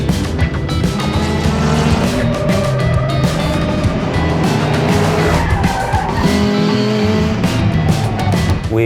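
Historic race cars lap the Portimao circuit on Portugal's Algarve coast during the Algarve Classic Motor Racing Festival, their engines roaring loud and continuous with rising and falling revs and squealing tyres.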